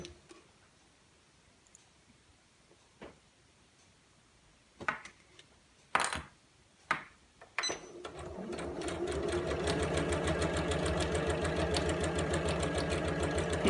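A sewing machine stitches calico fabric for a tablet case, with a few scattered clicks and knocks at first, then a fast, steady mechanical whirring run of stitches that continues to the end, close and clear.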